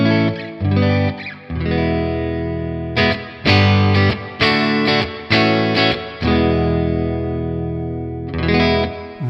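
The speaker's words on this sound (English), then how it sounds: "I'll play some chords and single style notes clean with some reverb across the 3 selector positions." Clean electric guitar chords from a Custom Shop Fender Telecaster '52 Nocaster in blonde through a Bad Cat amplifier with reverb, strummed in several sustained ringing bursts with short gaps, loud and close with no voices.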